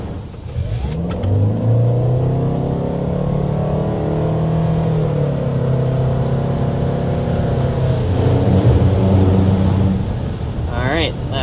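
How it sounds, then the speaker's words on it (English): A 2025 Toyota Sienna minivan under hard acceleration, engine note climbing steadily through the gears with a strong, close whine and drone, shifting pitch briefly near the end. "we need to go ahead and start with a hard acceleration"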